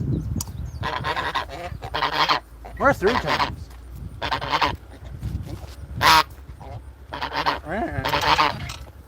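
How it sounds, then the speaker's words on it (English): Geese honking repeatedly while begging for food, loud overlapping honks coming in irregular bursts close by, with someone talking over them. "The geese are coming to beg for food."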